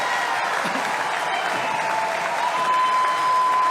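A large conference crowd at CPAC applauds Viktor Orban's speech, a steady dense wash of clapping and cheering that holds at an even, loud level throughout with no one talking over it.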